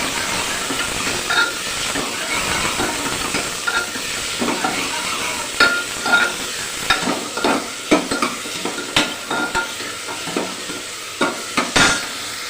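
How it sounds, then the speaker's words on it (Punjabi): Onion, garlic and green chilli hit hot oil already holding cumin, giving a steady sizzling hiss over continuous frying, with a spoon stirring and scraping the pan in irregular clinks throughout. "ਆਪਾਂ ਇਹਦੇ ਪਿਆਜ਼ ਲਸਣ ਤੇ ਹਰੀ ਮਿਰਚ ਜਿਹੜਾ ਆਪਾਂ ਤੜਕਾ ਕੱਟ ਕੇ ਰੱਖਿਆ ਸੀ ਜੋ ਪਾਣਾ"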